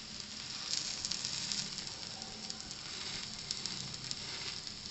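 An uttapam made from MTR dosa ready mix cooks slowly on a pan, giving off a steady, faint sizzle and hiss with light crackling pops and no voices.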